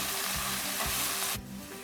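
Chopped onions frying in oil for Singaporean rice, with a loud dense sizzle and soft rhythmic stirring thumps; the hiss drops away sharply near the end.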